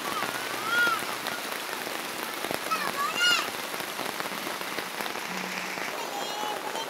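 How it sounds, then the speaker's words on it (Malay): Heavy rain hisses steadily throughout, with faint bird calls and brief chirps poking through the downpour. "Hujan lebat ni."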